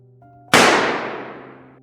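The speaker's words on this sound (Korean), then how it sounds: "천장에 총알 한 발을 발사했습니다" A single gunshot is fired into the ceiling inside a supermarket during a robbery, a sharp loud bang followed by a long ringing decay over a faint low hum.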